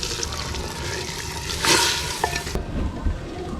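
Hot fried tempering is poured into village-style whole masoor dal, bursting into a loud hissing sizzle that swells at the pour and then eases into quieter bubbling, with no talking.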